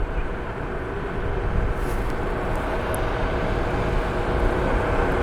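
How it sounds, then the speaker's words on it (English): An airliner taxiing toward a hangar at Columbus Glenn airport, a continuous loud engine roar and rumble held steady throughout, with no talk over it. "They gotta taxi this one over to the hangar."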